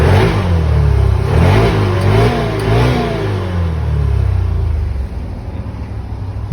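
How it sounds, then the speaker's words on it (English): A 2021 Can-Am Commander XT 1000R side-by-side engine revs loudly up close, pitch rising and falling through several throttle blips before settling back toward idle. "Hopefully revving the engine right there made you guys a believer"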